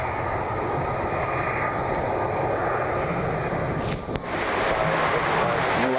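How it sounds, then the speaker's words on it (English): An American Airlines Boeing 737 jet taxis out for departure, its engines producing a loud, continuous broadband roar that holds steady throughout, with a brief dip and a shift in tone near the end. "Got an American 737 taxiing over for departure."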